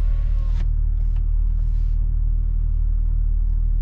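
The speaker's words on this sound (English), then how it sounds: "So it's a good range engine, but little late to start, which prevents you from starting with drift." A remapped BMW E38 725 TDS diesel idles or cruises in city traffic, a loud, steady low engine rumble heard from inside the car, with a few brief clicks and rustles.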